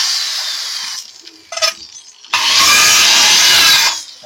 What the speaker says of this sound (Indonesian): kemudian kita bor dari bawah